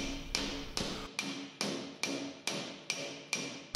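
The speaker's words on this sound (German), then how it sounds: "das Blech von außen mit einem flachen Kletterhammer geglättet" A flat hammer strikes sheet metal from outside against a curved dolly held behind it, about nine sharp ringing metallic taps at a steady, even rhythm, close and clear with no talking.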